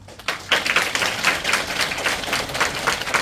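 Audience applause at a church inauguration service: a steady patter of many hands clapping in quick rhythmic pulses, moderately loud and without talk.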